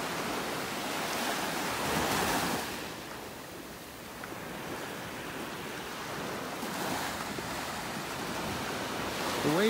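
Ocean waves wash steadily onto a beach in North Naples, Florida, with swelling surges of surf and a constant wind-blown roar.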